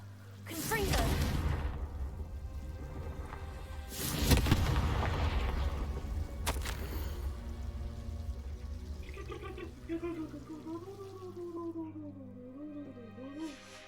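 Fire spell Confringo cast in the video game Hogwarts Legacy: several loud whooshing blasts in the first seconds, one strong burst near the middle, then game music and ambience carry on with no talking.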